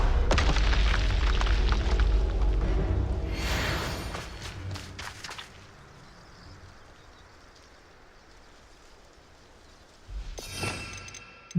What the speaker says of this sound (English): Blew up a red barrel that was once an enemy.